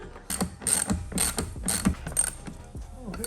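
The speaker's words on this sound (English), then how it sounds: "that was me just bolting a bar onto it" A hand ratchet bolts a bar onto car brackets while license plates are fitted to a Toyota GT86, giving several quick, close clicking bursts in an uneven rhythm.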